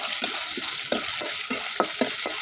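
Onion, garlic and whole garam masala sizzle steadily in a hot pan while a utensil scrapes and stirs at an uneven rhythm, up close with no talking.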